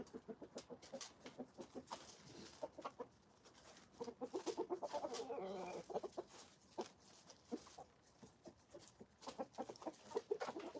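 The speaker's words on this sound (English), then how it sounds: "I see you, roosters." Roosters and chickens in a backyard flock on a Maine morning cluck and squawk in quick, overlapping bursts nearby, with a busier stretch of calls in the middle.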